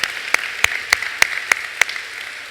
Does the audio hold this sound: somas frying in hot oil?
no